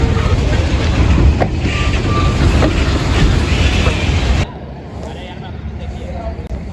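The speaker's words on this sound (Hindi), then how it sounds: "बहुत स्मूथ अराइवल था AG30 6017 का" AG30 6017 diesel locomotive pulling into Jahania station at night: a steady, loud rumble of rolling wheels and engine that cuts off abruptly, leaving a quieter station ambience with faint background noise.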